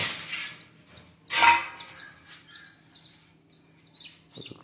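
A country hen near a brooding nest of eggs gives soft clucks and short calls, with one louder burst of clucking early on, amid quiet background chirps and faint rustling.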